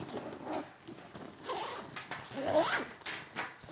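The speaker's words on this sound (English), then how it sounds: "Zip up the clothes compartment." A TANGCORLE 50L backpack's clothes compartment being zipped shut, giving a few quiet, scratchy zipper pulls spread over several seconds, close by with faint handling rustle and no talk.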